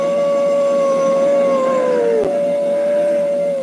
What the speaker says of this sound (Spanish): mi perro continuaba ladrando